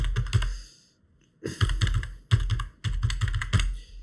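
Fast typing on a computer keyboard while entering a card and phone number, close bursts of clicking keystrokes separated by short pauses.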